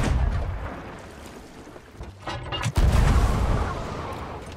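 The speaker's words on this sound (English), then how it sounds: "When you fire yourself out of a cannon, there is always a distinct noise that separates you from a cannonball." A player launching themselves out of a ship's cannon in Sea of Thieves, heard as a continuous rumbling mechanical wash that drops briefly before a loud, deep booming blast and sustained roar close by.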